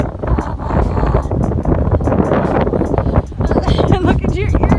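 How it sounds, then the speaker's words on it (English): Strong wind buffets the microphone outdoors at a Maine snow tubing hill, a constant loud roar that continues under talk and exclamations from people nearby. "Oh my god, it's so windy."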